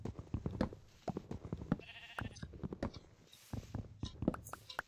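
Sheep in Minecraft bleating repeatedly in quick, choppy bursts, close and fairly quiet, with faint stepping or patter sounds mixed in.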